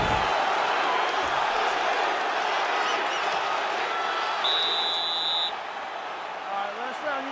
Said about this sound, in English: So the crowd voicing its appreciation after that.